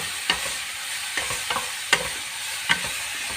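Chicken frying in a pan with a steady sizzle, punctuated by a few sharp scrapes of stirring at irregular intervals.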